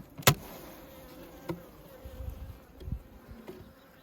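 Honey bees buzz around an opened hive during honey extraction, with a few loud passes of single bees near the microphone over a faint, steady hum from the colony.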